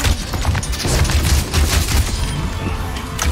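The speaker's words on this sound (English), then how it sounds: "Machine gun." Rapid machine gun fire in the shooter game Overwatch, sustained bursts of loud close rattling shots layered over game effects, continuous throughout.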